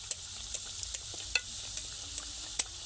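Fish luchi fries in hot oil, a steady close sizzle broken by small pops and crackles at irregular intervals, with no one talking.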